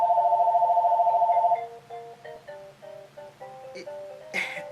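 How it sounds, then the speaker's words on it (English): A home telephone rings with a steady warbling electronic tone, then gives way to a string of shorter pulsing beeps and a brief clatter near the end, heard close and alone with no talk. "My home phone is ringing."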